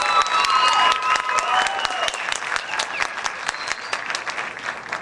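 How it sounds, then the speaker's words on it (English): Audience applause after a high school winter band concert, a dense crowd clapping with scattered sharp individual claps and a few cheers, gradually tapering as it goes on. "Please give them another round of applause."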